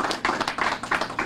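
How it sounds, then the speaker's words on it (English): An audience applauds at a public event on sick-day legislation in Jersey City, a short stretch of scattered, fairly close hand claps in uneven bursts. "And I think that that deserves a lot of applause."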